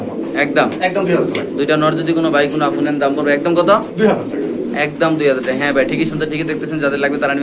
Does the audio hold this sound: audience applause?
no